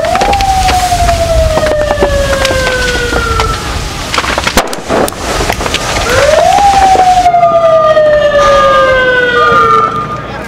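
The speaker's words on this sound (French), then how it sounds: "Des ambulances arrivent" Wailing ambulance sirens in Libya during NATO bombing sweep repeatedly, loud and close, over a rumbling background of chaotic noise, one siren fading before another rises.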